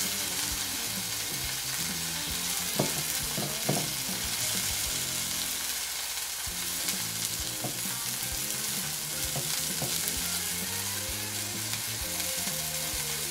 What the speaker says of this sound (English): we're gonna put it down on the flat top for it to put some marks on it or color